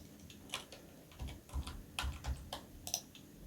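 Computer keyboard arrow keys pressed while lining up an image in streaming software, a sparse series of light, close clicks at irregular intervals with short gaps between them.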